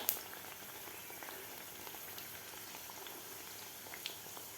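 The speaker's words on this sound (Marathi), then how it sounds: "आपल्याला गोल्डन कलरच्या होईपर्यंत आपल्याला हे पुऱ्या तळून घ्यायच्या आहेत" Sweet jaggery-coconut puris deep-frying in hot oil, a soft, even bubbling hiss with faint pops, fairly quiet and steady throughout with no voices.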